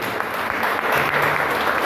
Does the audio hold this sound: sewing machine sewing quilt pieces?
no